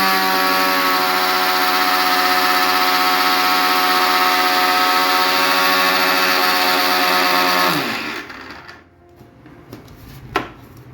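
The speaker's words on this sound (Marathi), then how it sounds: "हे मिक्सर मध्ये आपण बारीक करून घेऊ।" An electric mixer grinder whirs loudly as it grinds oats to powder, a steady high motor whine for about eight seconds. It then winds down, followed by quiet handling and a single click of the jar.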